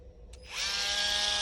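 A Ryobi power carver fitted with a V tool spins up and bites into a wood piece held in a vise, giving a steady high whine with a buzzing edge that stays loud and close after a short start.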